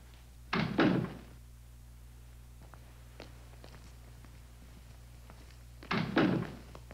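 A door shuts twice in a quiet interior: two heavy thunks several seconds apart, each with a short muffled rattle, and faint small knocks between them.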